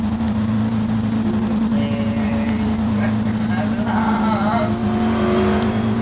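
A riding lawn mower's engine drones steadily as it climbs a hill in Liberty County, a constant low hum with faint rising whines, heard close under scattered talk.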